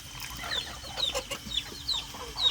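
A single aggressive male chicken, kept apart for fighting other birds, clucks in repeated short calls close by, with other farm fowl chattering around it and no voices heard.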